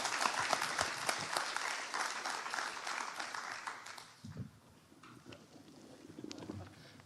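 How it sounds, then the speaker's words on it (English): Audience applause after a panel discussion at a trade, finance and sustainable development conference, steady and fairly dense for about four seconds, then thinning out to scattered claps and faint murmuring. "Please give a big round of applause."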